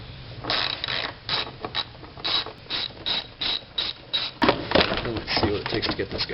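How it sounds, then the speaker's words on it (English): A ratchet clicks in repeated short bursts as a 10mm socket works bolts loose on a BMW X5 headlight, close and steady, with someone talking over the rhythm. "get a 10mm and remove those two bolts there"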